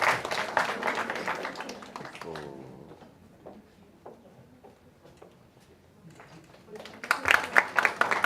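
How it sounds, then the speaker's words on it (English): Applause rises from a crowd at the USIU-Africa Legal Aid Clinic 2025 ceremony, in a burst at the start and a sharper flurry at the end. Quieter talk and scattered taps fill the gap between. "Let's give Anne a round of applause."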